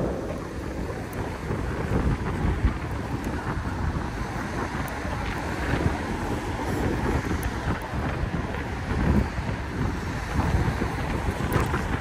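Strong, cold wind buffets the microphone while riding a bike, a steady, loud roaring rush that fills the whole stretch with gusty swells and no voices.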